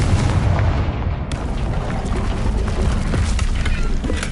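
Explosive spells Bombarda and Confringo blasting in Hogwarts Legacy, a loud, continuous rumbling roar of detonations filling the whole moment, with a spoken voice partly under it.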